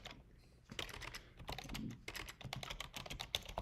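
Quick, uneven clatter of keys typed on a computer keyboard, close and quiet, with irregular bursts of keystrokes and no talking.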